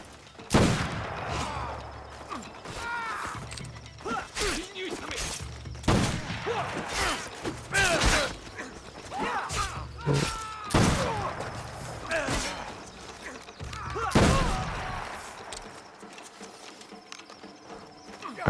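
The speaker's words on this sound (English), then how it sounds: "someone is shooting like a lunatic" Bandits open fire in Assassin's Creed Shadows, a feudal Japan setting. Irregular loud shots and volleys crack out amid galloping horse hooves and whinnies across a busy, chaotic scene.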